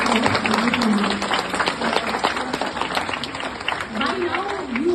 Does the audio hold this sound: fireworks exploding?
no